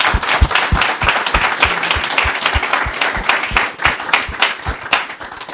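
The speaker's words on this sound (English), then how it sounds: "Give them an applause." An audience at a linked data conference session applauds the panel with steady, dense hand clapping for several seconds, loud and close, with no talking over it.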